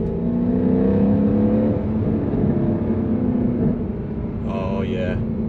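A Mercedes W204 C63 AMG accelerates on a twisting road, its engine giving a steady, fairly loud drone from inside the cabin, with no one speaking.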